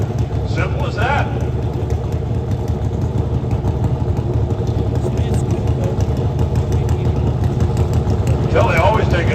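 Pro stock motorcycles idling while they line up at an NHRA drag race, a steady, loud, rumbling engine drone that runs continuously beneath an announcer's commentary.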